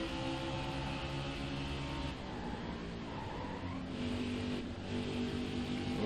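A NASCAR race car in the NASCAR Heat 5 video game roars steadily at high revs, a loud continuous engine drone with brief shifts in pitch and tyre scrub, no talk over it.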